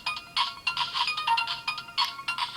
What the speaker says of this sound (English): if you leave it alone for a few seconds, you have a ringtone